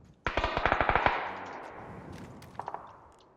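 Gunfire in the video game PUBG: a rapid burst of about eight loud, sharp shots in quick succession, followed by a decaying echo and a few fainter distant shots, with no talk.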